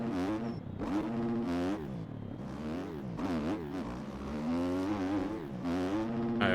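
A motocross bike on an MXGP track, its engine revving up and down in rising and falling surges as it works through ruts, loud and close, with no voices.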